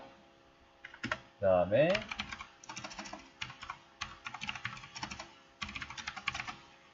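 Crisp computer keyboard key presses come in quick, irregular runs while a voice talks over them throughout.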